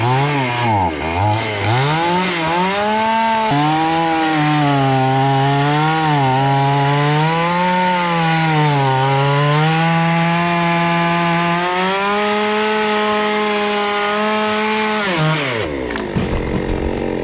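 A chainsaw cuts a long timber log down to shorter length near a timber lorry: loud, steady engine whine that rises and falls in pitch as the chain bites, running continuously before cutting off near the end.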